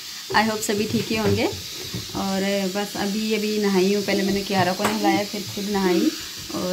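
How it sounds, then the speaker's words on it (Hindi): A pressure cooker hisses steadily in the background of a home kitchen, building toward its whistle, while someone talks continuously over it in the foreground. "पीछे से आपको आवाज़ आ रही होगी बैकग्राउंड में, तो वो मेरा प्रेशर कुकर सीटी देने की कोशिश कर रहा है।"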